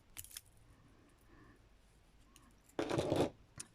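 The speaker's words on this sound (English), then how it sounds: "snip off the yarn," Scissors snip through crochet yarn in one brief, fairly loud cut near the end, with faint light handling noises earlier and no talking.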